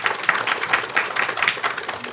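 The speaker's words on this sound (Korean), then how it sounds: "뜨거운 박수로 환영해 주시기 바랍니다." Audience at an energy industry AI forum applauds warmly to welcome a company CEO being introduced, a brisk burst of many hands clapping close and fairly loud, with no speech.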